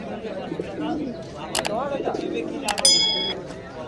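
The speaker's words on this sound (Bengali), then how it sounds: "দাদা বলছে সেটা কালদমা ডাকছে" Kaldama pigeons at a busy pigeon market in Madhyamgram, with soft cooing calls and a few sharp chirps and a bell-like ding over a background of crowd chatter and nearby voices.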